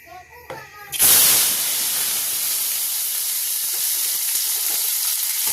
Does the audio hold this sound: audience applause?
no